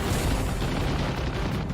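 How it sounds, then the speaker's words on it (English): Burst of aircraft machine-gun fire strafing the water above a submerged submarine, heard as a dense, loud, low rumbling roar that stays steady for the whole short stretch, with no talking over it. "I'll put down another burst."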